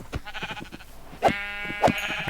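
Two loud, nasal sheep bleats from the Minecraft video game, spaced about half a second apart, over soft game background sounds and light clicking.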